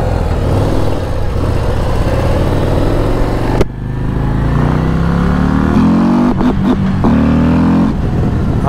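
A 2024 Harley-Davidson Road Glide CVO ST motorcycle engine rumbles loud and close, then cuts briefly and comes back revving, its pitch climbing steadily as it accelerates.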